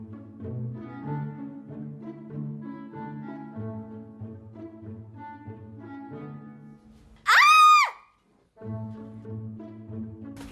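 A girl lets out a sudden, loud, high-pitched scream, brief and piercing, breaking into a scene where people talk and music plays underneath.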